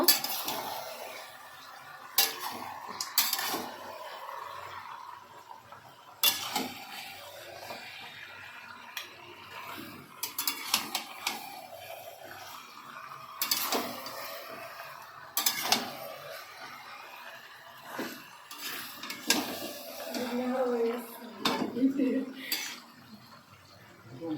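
Chicken curry is stirred in a cooking pot, producing intermittent metallic scrapes and clinks of a utensil against the pot. The sounds are moderately quiet and spaced out, with a voice talking between them.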